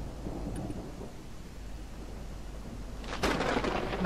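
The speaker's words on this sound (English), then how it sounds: "Whoa, that was cool lightning." Thunder rumbles in a dark Backrooms video game, a low steady roll of rain-like noise that swells into a louder crack near the end.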